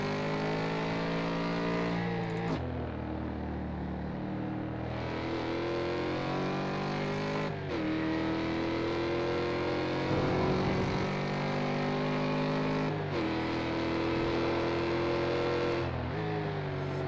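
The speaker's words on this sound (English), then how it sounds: "Just like to listen to that Mustang a little bit going down the straight." A Ford Mustang race car in a racing sim video game on the Mid-Ohio chicane course roars down the straight, its steady engine note rising through the gears with brief shift dips, loud and continuous with no talk.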